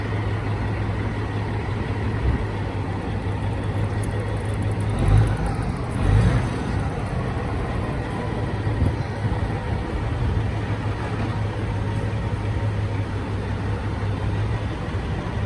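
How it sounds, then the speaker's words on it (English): An 18-wheeler truck idles and inches through downtown Toronto rush-hour traffic, with a steady low engine rumble and a couple of brief louder surges over constant street noise. "I wouldn't know how to maneuver a big truck like that"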